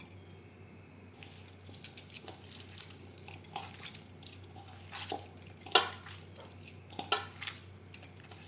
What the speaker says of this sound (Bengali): সবার প্রথমে আমি এঁচড় বেশ ভালো করে ম্যাশ করে নেব